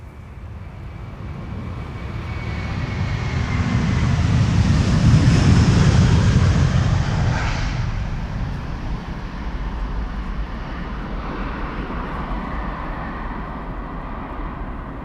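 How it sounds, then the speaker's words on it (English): Delta Airlines jet taking off from Amsterdam Schiphol for New York JFK, a rumbling roar that builds to a peak and then fades into steady distant noise. "This is Delta Airlines flight 47 going to New York, JFK."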